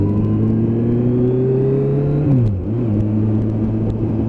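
A Kawasaki GTR1400 touring motorcycle cruises along a road, its engine humming steadily with rising pitch before easing off and settling back to a lower, even drone, wind noise running throughout with no talk.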